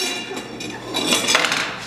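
Sliced strawberries drop into a bowl in a kitchen, with a few light clinks and knocks of fruit and utensil against the dish, close and moderately loud, with no talk.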